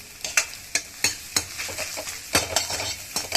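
Eggs for egg bhurji, salted only, frying in a pan while a spatula stirs and scrapes them, giving a close sizzle broken by repeated sharp scraping knocks.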